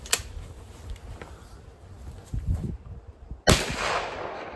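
A single loud, sharp firearm report rings out near the end, right after a softer muffled thump, with outdoor background noise before it at a clay shooting range.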